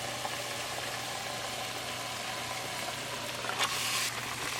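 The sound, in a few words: beef frying in pan with cooked tomato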